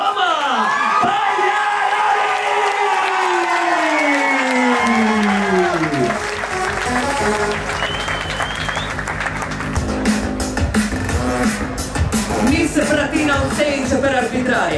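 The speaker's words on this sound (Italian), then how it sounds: "facciamo un grandissimo applauso a Mrs. Marika Killer Mama" Crowd applause and cheering at an Italian K-1 kickboxing event for a women's title bout, loud and sustained, with whoops rising over a dense wash of clapping in a large hall.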